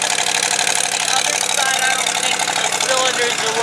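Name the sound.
1989 Ford F250 service truck engine running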